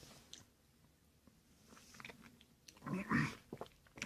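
Soft, close bite into a ripe Russian Black tomato, with quiet juicy squishing and chewing that swells into a louder wet crunch after a few seconds.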